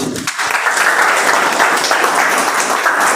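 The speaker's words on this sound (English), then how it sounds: "So can I have a big round of applause for the speech?" An audience at a Toastmasters club meeting breaks into a short, loud round of clapping after a speech, steady and dense for about three seconds.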